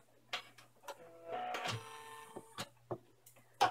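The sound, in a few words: embroidery machine satin stitching around window pieces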